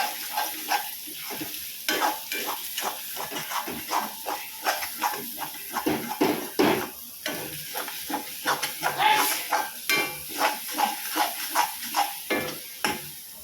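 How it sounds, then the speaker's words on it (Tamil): Eggs are stir-fried with masala on a hot pan for street-style kothu parotta, a loud, close sizzle with a steady rhythm of repeated stirring and scraping strokes and no talking. "இந்த முட்டையை நல்லா இந்த மசாலா கூட பரட்டி முட்டை நல்லா வேகிற அளவுக்கு கொஞ்ச நேரம் விடணும்"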